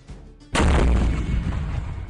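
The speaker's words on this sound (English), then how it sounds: "the light cannons tore through Scottish numbers in a matter of moments, in a quick return fire" Light cannon fire in a reconstructed battle at Flodden: one sudden heavy boom strikes after a quiet moment and rolls on as a long rumbling decay, loud and close, with no voices.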